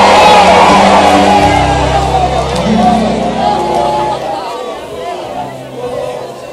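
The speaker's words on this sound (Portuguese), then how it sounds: "Quem pode encher o pulmão e dar o maior grito de glória aí que você puder?" A church congregation shouts in praise, a loud sustained roar of many voices with whoops and cries that slowly fades while staying dense and close.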